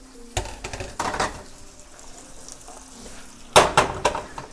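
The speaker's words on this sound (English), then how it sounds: "now I'm going to toss the shrimp and spinach into the pasta, into the same pan that I cooked the pasta in" Shrimp and spinach tossed into a hot pasta pan, with bursts of sizzling and clattering stirring at the start and again near the end, quieter frying in between; no talking.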